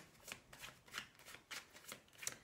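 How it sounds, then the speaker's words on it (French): Oracle cards from a mirror oracle deck are shuffled in quick, soft riffling bursts, about seven in a steady rhythm, quiet and close with no voices. "Je vais prendre une carte de l'oracle des miroirs."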